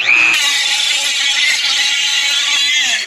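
A sticking deadbolt being worked over with a grinding power tool gives a loud, steady, continuous high-pitched grinding whine that holds for the whole stretch with no pauses.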